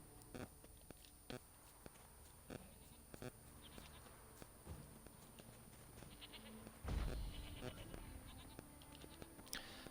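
Goats bleat in a video game played on Death March difficulty in New Game Plus, a few nasal calls sitting quietly among soft game ambience and small thuds.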